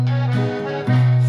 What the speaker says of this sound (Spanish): Y suena así, en Si mayor desde la intro.